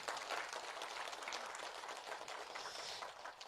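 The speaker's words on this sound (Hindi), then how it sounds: "शिवाजी के लिए तालियां होना चाहिए कि नहीं?" Applause for Shivaji fills a Marathi meditation gathering: a dense, steady wash of many hands clapping together, moderately loud and sustained throughout without talk.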